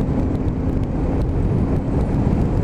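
A BMW R1150R boxer-engine motorcycle pulls through the gears on the road, heard as a loud, steady low rumble mixed with wind rush and no voices over it.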